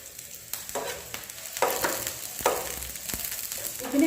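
Raw green chillies and onions fry in a pan with a steady sizzle, broken by several sharp clanks and scrapes of a spoon stirring close by.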